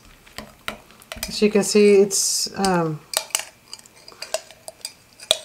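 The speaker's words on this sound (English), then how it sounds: "I suggest you use like a strong spoon to stir it." A strong spoon stirs a thick, viscous lavender bubble bath mixture in a bowl, clinking and scraping with sticky, squelching sounds. A person talks briefly partway through, and the stirring continues in irregular strokes.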